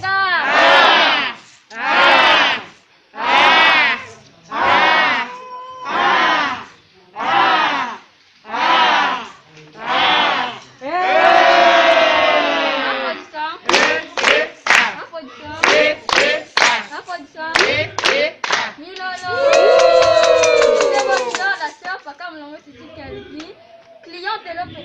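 A church congregation claps and cheers in acclamation during a French-language worship service, rhythmic bursts of loud clapping and shouting repeating in waves, with chanting voices joining throughout.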